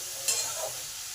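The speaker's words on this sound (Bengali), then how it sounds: "পটলটাকে 2 মিনিট কষে নিলাম" Pointed gourd pieces sauté in a pan with salt and turmeric for a potato and pointed gourd dish. A brief, steady close sizzle is broken by one quick scrape of a spatula, with no voices.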